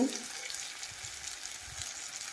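Chopped chillies hit hot oil in a pan while mutton curry is being sautéed, giving a faint, steady sizzling hiss with no voice over it.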